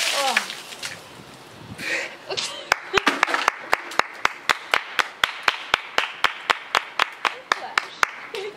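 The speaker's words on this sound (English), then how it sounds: "I have an audience here is cheering me on" Sharp claps come in a steady rhythm from about three seconds on, close and loud, with a small group cheering and calling out behind them and voices speaking.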